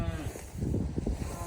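Cattle on a tall-grass pasture during a rotational move give a low, close moo or bleating call at the start, then muffled rustling and low rumbling from the herd nearby.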